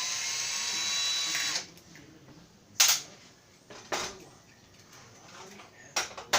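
A power drill runs in reverse, backing screws out of a door knob: a steady whir for about a second and a half, then a few short bursts and clicks, close up, with no talking.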